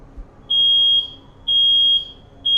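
An apartment fire alarm sounds in loud, piercing electronic tones, each about half a second long, repeating with short gaps in a steady pattern. No voices are heard.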